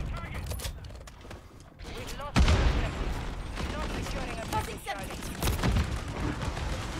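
Gunfire in a shooter video game, with sharp bursts and rattling volleys, the loudest hit partway through, while a player talks over the action.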